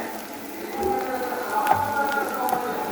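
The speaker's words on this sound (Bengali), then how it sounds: "এখানে আমি 3টে ডিম ভেজে নিচ্ছি একই সাথে।" Three eggs fry together in a pan, making a soft, steady crackle and spatter at moderate distance, with faint background noise and no talk.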